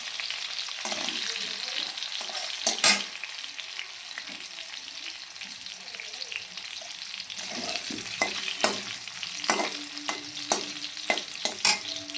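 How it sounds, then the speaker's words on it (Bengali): Potatoes frying in oil with whole cumin seeds, a steady crackling sizzle throughout with repeated clicks and scrapes of a spatula stirring against the pan, close and without talk. "আলুটা তোমার ভাজা করে নিচ্ছি একটু গোটা জিরে ফোড়ন দিয়ে দিয়েছিলাম"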